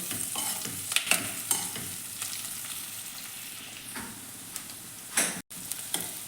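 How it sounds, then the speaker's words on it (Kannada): Onions frying in a pan give a continuous near sizzle, broken by several utensil scrapes and clicks against the pan, with no talking. "ಈರುಳ್ಳಿನ ಸ್ವಲ್ಪ ಹುರ್ಕೋತೀನಿ"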